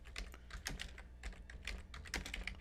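Quick, light tapping on a computer keyboard, an irregular burst of keystrokes close to the microphone and fairly quiet, with no talking over it.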